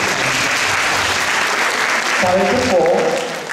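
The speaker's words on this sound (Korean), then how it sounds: "다시 한번 박수." Audience applauding steadily at a Korean Air Force Academy admissions briefing, a dense continuous clatter of many hands that holds loud throughout, with a voice speaking over it near the end.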